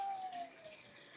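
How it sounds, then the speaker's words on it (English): Water is poured off a pot of cooked yams and green bananas, a short splashing gush that starts strong and tapers off within about a second. "We're gonna pour that water off."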